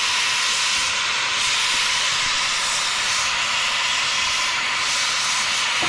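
A torch used to melt solder on a radiator gives a loud, steady hiss that holds evenly and close throughout, with no talk.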